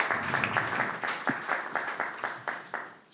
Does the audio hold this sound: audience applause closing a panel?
yes